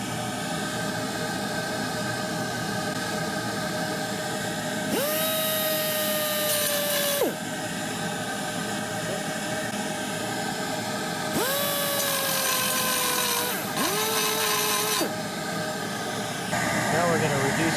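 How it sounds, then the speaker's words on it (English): Bursts of power grinding on the steel headers of a Ford Ranger 2.9L V6 Cologne engine, three whining passes of a couple of seconds each over a steady background hum, loud and close. "Feeling the bumps with my fingers and grinding them off."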